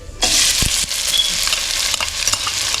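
Onions hit hot oil in a roadside-style salna pan with a sudden loud burst of sizzling, then a steady close frying hiss broken by a few stirring clicks, with no talking.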